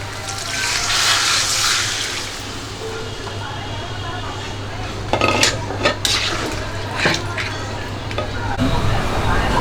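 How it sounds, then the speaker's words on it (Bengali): Water pours into a pot of fish head and potato curry, a broad steady rush over a low hum, followed by a few sharp clinks and knocks of utensils against the pot. "তো এখানে আমার মাছের মুড়ি আর আলুটা কষানো হয়ে গেছে এখন দিয়ে দেব পানি"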